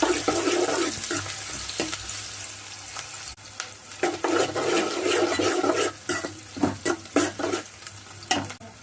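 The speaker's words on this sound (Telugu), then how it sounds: "ఉల్లిపాయలు వేసుకొని గోల్డెన్ కలర్ వచ్చేలా చేసుకోవాలి" Onions fry in oil in a pan until golden, a loud hissing sizzle that briefly dips, then returns with rhythmic stirring scrapes and spatula knocks toward the end.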